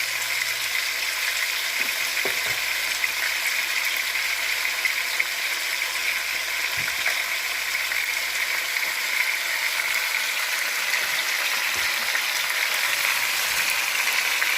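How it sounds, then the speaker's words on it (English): Oxtail pieces sizzle in a hot pot for Jamaican-style oxtail, a steady, even frying hiss with occasional scrapes and clinks of stirring, close and continuous with no talk. "The oxtail is sizzling"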